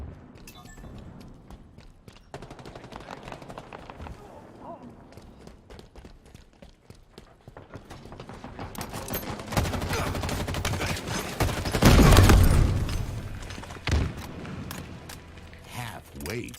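A frag grenade bursts amid rattling gunfire in a combat video game: rapid clattering shots build over several seconds to a loud, booming peak, then continue more sparsely, with a player's voice calling out over the action.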